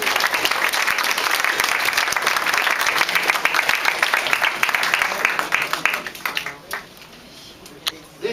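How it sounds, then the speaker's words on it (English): A studio audience bursts into loud, dense applause for a captain during a vintage NBC radio broadcast, sustained for several seconds before tapering off into a few scattered claps. "Let's have a round of applause for the captain."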